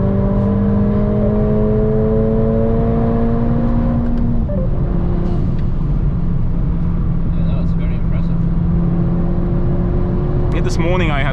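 A Renntech-tuned Mercedes A45S AMG runs hard on the Nürburgring, its engine drone heard from inside the car, loud and steady, with the pitch rising through the gears. Gear changes break the tone, and wind and road roar sit beneath it.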